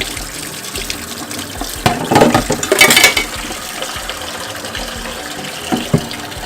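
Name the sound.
rinsing fryer mesh filter in sink under tap water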